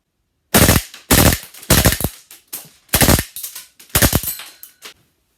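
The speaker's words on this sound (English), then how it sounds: "Full auto. Bullpup Glock 18, SR Union Prototype Division. And I am shooting the ever-living crap out of a plate carrier." Full-auto bursts from an SR Union Prototype Division bullpup Glock 18 gas blowback airsoft pistol firing into a plate carrier, six rapid rattling bursts in a row, loud and close, with short gaps between them.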